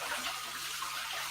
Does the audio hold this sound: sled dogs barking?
no